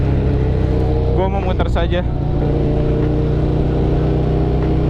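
A Ducati Monster 1100 EVO motorcycle rides through daily traffic, its engine a steady loud rumble with wind noise, while a rider talks briefly over it.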